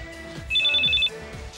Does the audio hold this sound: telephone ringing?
yes